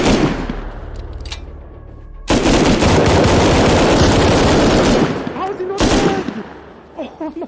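LR-300 assault rifle in Rust fires long, loud sustained automatic bursts, a dense rapid rattle that stops briefly and resumes, with faint game noise between volleys.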